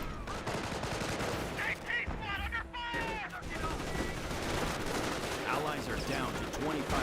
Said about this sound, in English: Quad half track firing away